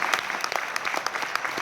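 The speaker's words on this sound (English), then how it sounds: "come on, you should be applauding that." An audience at a Les Brown talk in an arena claps steadily, a dense patter of many hands that holds evenly at a moderate distance throughout the short stretch.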